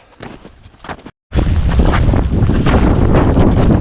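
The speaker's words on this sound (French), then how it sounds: "on prend le vent dans la gueule, ça tombe" Strong wind blasts steadily and loudly across a microphone during a snowstorm in the mountains of the Pays de Sault, on a snowshoe trek, with a brief dropout before the roaring gusts continue unbroken.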